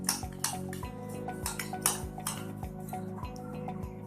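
Salad dressing is mixed by hand in a bowl, with quick, regular clinks and taps of a utensil against the bowl repeating in a steady rhythm, close up, with no talking.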